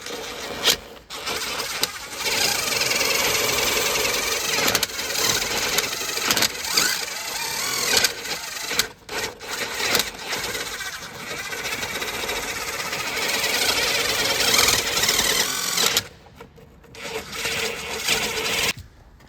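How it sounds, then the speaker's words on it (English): A drill fitted with a bristle brush whirs steadily, the brush grinding against a 2013 Subaru Outback's fuel door area, loud and continuous with a few brief pauses and restarts. "I got this bristle brush that I put on the end of a drill here"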